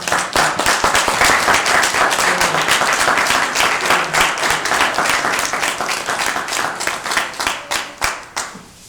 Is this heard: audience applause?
yes